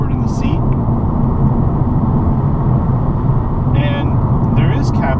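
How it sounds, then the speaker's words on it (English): Steady road and engine noise inside the cabin of a 2016 Mazda 3 four-door hatchback while driving, a loud, constant low rumble with light hiss and a few faint higher sounds. "And there is cabin noise in here. I think this is the noisiest car I've driven so far today."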